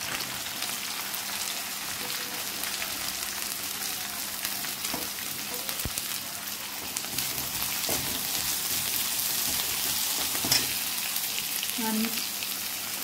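Finely chopped green chillies, spring onions and capsicum sizzle in hot oil for crispy Indian-style cabbage, a steady, fairly faint crackle with scattered pops and a few light stirring knocks.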